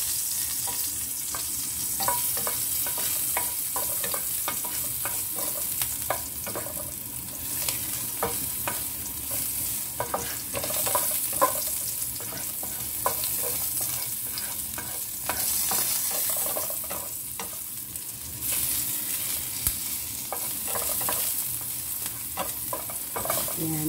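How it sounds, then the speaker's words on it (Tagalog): Garlic with its skin still on fries in a pan, a steady bright sizzle with repeated stirring scrapes and clinks throughout, no voices. "Make it golden brown para yung masarap na lasa, yung aroma ng bawang ay lumabas."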